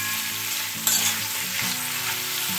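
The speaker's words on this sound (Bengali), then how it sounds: "এইবার সমস্ত সবজি খুব ভালো করে নুন আর হলুদ দিয়ে মিশিয়ে নেব।" Cauliflower, pumpkin and radish stems stir-fried with salt and turmeric sizzle steadily in the pan, with spatula scrapes and a brief clatter near the middle, close and moderately loud.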